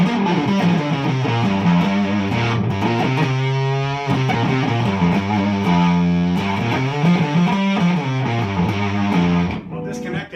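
A heavily distorted electric guitar through a Catalinbread Naga Viper pedal powered by a lithium-ion battery plays sustained, buzzy chords and a few bent notes, thick and saturated, ending with an abrupt cut.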